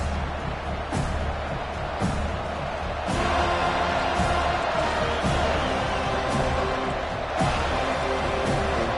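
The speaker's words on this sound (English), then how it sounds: "This crowd bringing an ear-splitting welcome to their visitors." A loud football stadium crowd roars continuously through a TCU versus FSU game, a dense, sustained wall of noise with sharp thuds and bursts rising from it.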